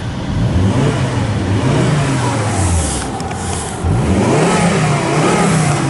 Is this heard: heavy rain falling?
no